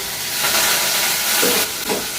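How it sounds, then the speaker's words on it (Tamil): Onion and curry leaves fry in oil in a pan with mustard seeds, urad dal and fenugreek, giving a steady, close sizzle and hiss that swells briefly near the end, with no talking. "கருவேப்பிலை வெங்காயம்லாம் பொறிஞ்சிருச்சு"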